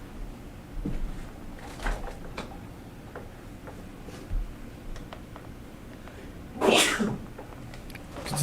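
A single sharp, close sneeze bursts out in a quiet room during a developer's coding livestream, standing apart from faint ticking and small desk sounds around it.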